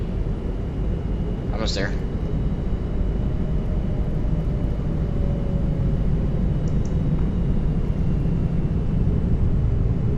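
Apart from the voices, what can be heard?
Boeing 787 landing with gear down in X-Plane 11 video game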